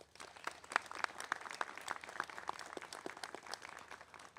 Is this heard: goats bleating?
no